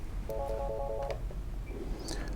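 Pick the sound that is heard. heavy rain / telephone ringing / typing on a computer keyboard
telephone ringing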